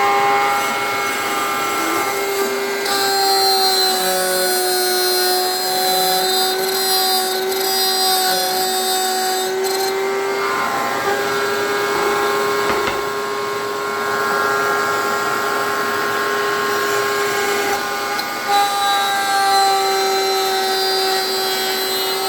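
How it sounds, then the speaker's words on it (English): A router cuts through a zero clearance table saw insert, a loud, sustained high-pitched whine with steady cutting noise that stays close and constant from start to finish. "so I know where to start and stop the cut"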